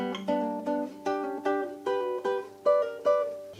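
A classical guitar plays a short passage from Albéniz's Sevilla, a run of about nine evenly spaced plucked notes and chords, each ringing and decaying, close and clear with no talk.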